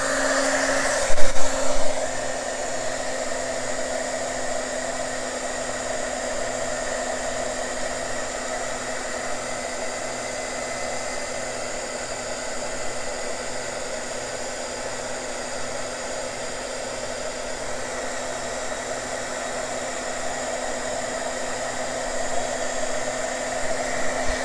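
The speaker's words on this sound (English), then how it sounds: "I'm going to hit this with my little heat gun here. This is an embossing heat tool." A small embossing heat gun blows steadily on wet paint, giving a continuous airy whoosh with a low motor hum. It runs alone at an even level throughout, apart from a brief knock near the start.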